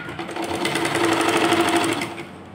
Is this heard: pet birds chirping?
no